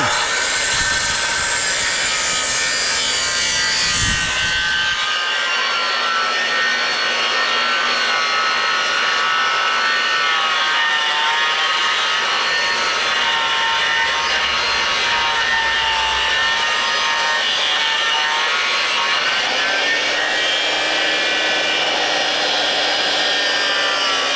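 A handsaw cuts wood for a mobile home front porch build, giving a steady, loud, continuous rasping drone that runs through the whole stretch, close to the microphone with no talk.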